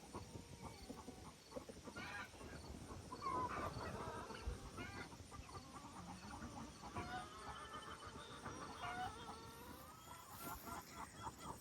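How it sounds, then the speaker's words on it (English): Chickens cluck softly in a backyard coop, a quiet, scattered chorus of short calls with occasional louder clucks over an even outdoor background. "All the chickens are looking nice and relaxed in here."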